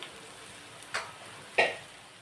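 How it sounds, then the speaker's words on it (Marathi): Alu vadi (colocasia leaf rolls) fry crisp in hot oil with a soft, continuous sizzle. Two sharp clinks, like a utensil tapping the pan, cut through it. "अशा ह्या कुरकुरीत होईपर्यंत तळून घेते मी"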